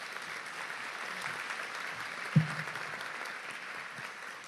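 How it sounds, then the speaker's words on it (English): An audience applauds students at a Kaiser Permanente Georgia health event, a steady wash of clapping held at an even level throughout, with one sharper thump partway through. "So let's give these students a round of applause again"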